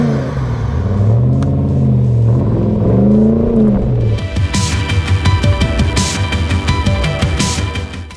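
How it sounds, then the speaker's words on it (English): A restored 1995 Land Rover Defender 90 with a 430-horsepower LS3 V8 and six-speed automatic, rumbling loud and close with rising and falling revs, then a rougher throbbing drive. "This D90 is powered by our LS3 430 horsepower engine with 6-speed automatic transmission."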